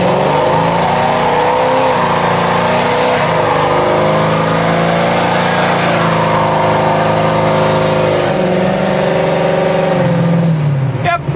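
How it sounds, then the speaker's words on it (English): A Pontiac car accelerates hard during a traction test, its engine roaring loud and close with steadily climbing revs, a brief dip as it shifts, then pulling higher again before cutting off at the end. "Let's do a traction test real quick, just to make sure the fuel pressure stays up under RPM"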